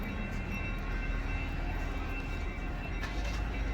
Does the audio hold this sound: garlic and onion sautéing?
no